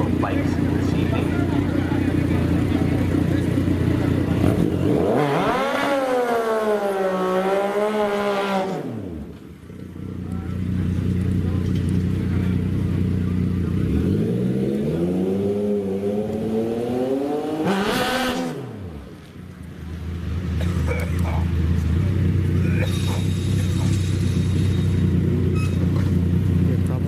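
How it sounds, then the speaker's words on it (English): Drag racing motorcycles, Damon's American Motorsports bike among them, at an Orlando speedway roar through two separate revving, accelerating runs. Each has rising and falling engine pitch and ends in a brief drop, over constant track noise and an announcer talking. "Riding a couple of bikes this evening."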